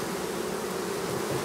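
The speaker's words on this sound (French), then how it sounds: "La ruche déborde d'abeilles." Honeybees swarm thickly at the entrance of an overflowing production hive in hot weather, a dense, continuous buzzing hum, close and steady throughout with no voices.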